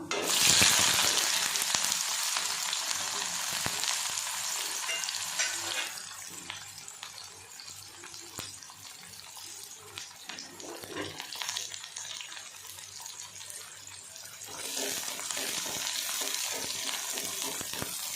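Onions and green chillies sautéing in a pan, a steady hiss and crackle of oil with frequent stirring scrapes, dipping quieter in the middle then rising again.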